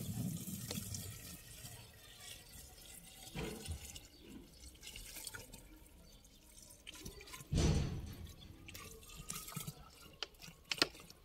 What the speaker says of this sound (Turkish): Kalan suyu da şişenin içine boşaltalım.